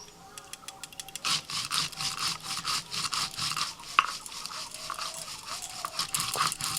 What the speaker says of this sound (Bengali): সাদা সরষে আর পোস্ত একসাথে বেটে নিচ্ছি